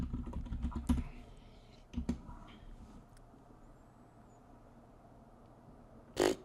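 Quiet typing on a computer keyboard, a few scattered clusters of key clicks separated by long near-silent gaps, with a sharper burst of keystrokes at the end.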